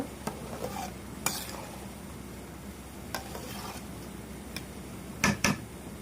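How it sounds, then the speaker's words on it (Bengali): A spoon or ladle stirs polao rice in a pot for beef tehari, giving soft scraping scrapes and a few sharper clinks at irregular intervals over a faint sizzle, close and fairly quiet. "এখন পোলাওটা নাড়া দিব।"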